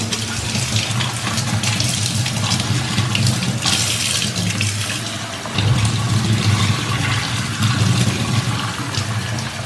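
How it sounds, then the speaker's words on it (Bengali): Running tap water pours steadily over chopped garlic and onion held in a strainer, a continuous splashing hiss close by with a brief dip and change in flow midway. "তো এগুলো আমি ছাঁকনির সাহায্যে ধুয়ে দেবো"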